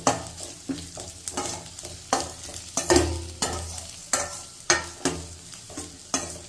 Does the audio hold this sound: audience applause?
no